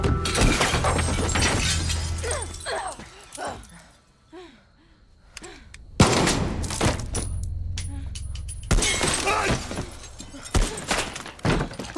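A gunshot in a video game, a sudden sharp crack followed by a shattering burst and scattered debris, loud and close, with game voices and a barking dog heard in the surrounding commotion.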